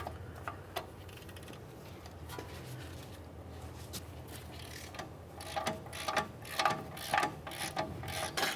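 A ratchet works on the caliper bracket bolts of a GMC Acadia's front brakes, turned with a 21mm socket, giving quiet clicking turns that grow into louder, rapid ratcheting bursts near the end, close by.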